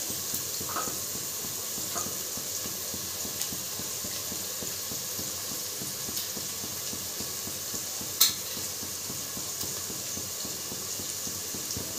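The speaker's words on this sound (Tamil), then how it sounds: "வெங்காயம் வதங்கி விட்டது." Onions sauté and sizzle in a pan while being cooked for a green pea and prawn biryani, a steady close frying hiss with light stirring scrapes and one sharp clink midway, no talking.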